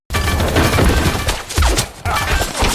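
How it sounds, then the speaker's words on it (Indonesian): Gunfire in an action film set at a large warehouse, with rapid bursts of shots and heavy booming thuds, loud and close, broken by a brief pause before another burst. "tiba-tiba suara tembakan pecah"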